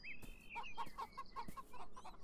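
Chickens cluck in the video game Beyond Eyes, giving a quick run of close, clipped clucks and squawks. The sound is fairly quiet and no one talks over it.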